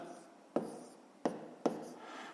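Pen or chalk writes a math solution, a few brief strokes and sharp taps spaced apart, close and crisp against a quiet room.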